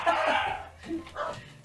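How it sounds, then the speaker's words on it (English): A dog barks a few times indoors, close and fairly loud, mixed with a person's raised voice talking over it. "My dog started barking because I was yelling."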